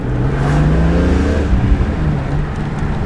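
BMW E46 M3 CSL with SMG gearbox pulling flat out from second into third, a loud, steady engine drone rising in pitch, then dipping briefly around the shift before carrying on at high revs.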